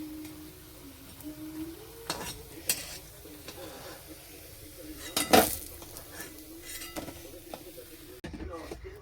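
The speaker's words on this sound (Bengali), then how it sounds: "বড়াটা ভাজা হয়ে গেছে, তুলে নিয়েছি।" A fried fritter lifted out of a pan of hot oil, with scattered metallic clinks and scrapes of a utensil over a low, steady background hum.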